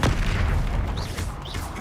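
A loud, booming fire-spell blast from the Hogwarts Legacy video game, a sustained low rumble with a crackling burst that holds for under two seconds.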